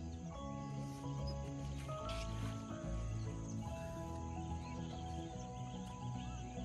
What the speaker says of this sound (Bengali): শুনতে পাচ্ছ তো পাখিদের আওয়াজ?